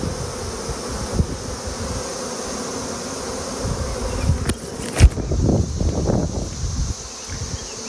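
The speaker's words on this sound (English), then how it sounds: "A bunch of bees are inside." Honey bees buzz steadily around an open hive box, a continuous droning hum close by, with some rustling and handling knocks partway through.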